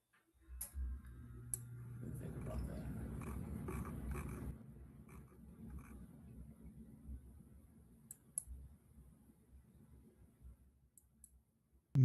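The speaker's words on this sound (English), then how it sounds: "don't know why we can hear you clicking." Repeated clicking picks up on a microphone during a live trading session, small rapid ticks running steadily through most of the span at a fairly low level.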